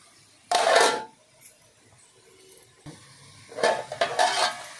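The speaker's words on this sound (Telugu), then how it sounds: "ఇప్పుడు నేను మూత పెట్టేస్తున్నాను" A metal lid set down on a cooking pot of goat head curry, with two bursts of clattering metal about three seconds apart, close and fairly loud, the second longer with several knocks.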